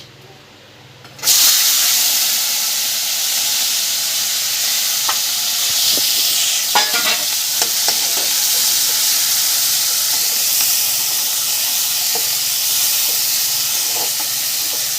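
Onions dropped into hot oil in a pan, hissing into a loud steady sizzle that holds throughout with occasional stirring clatters after a brief quiet start.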